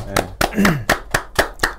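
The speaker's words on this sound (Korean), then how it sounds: "처음 오신 분들한테 박수 한번 아낌없이 드려야죠" A single person claps during a Korean live stream, about seven sharp, close claps in a steady rhythm, with a brief vocal sound between them.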